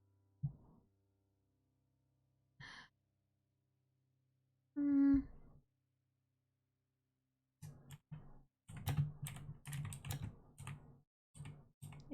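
Rapid, uneven keystrokes on a computer keyboard, close and fairly quiet, come in a dense burst after a few isolated taps and sparse gaps of silence.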